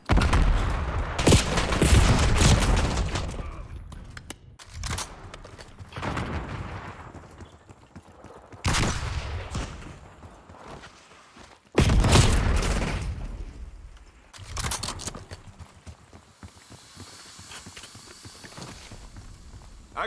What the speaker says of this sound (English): HPT under fire.